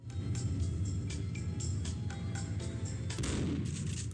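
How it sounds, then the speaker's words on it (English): A single gunshot from Max Payne rings out at about three seconds, fired at an elevator speaker, over a steady, dense backdrop of game sound. "if you shoot the speaker that is playing the annoying elevator music"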